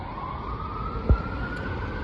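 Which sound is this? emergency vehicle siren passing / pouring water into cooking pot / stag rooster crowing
emergency vehicle siren passing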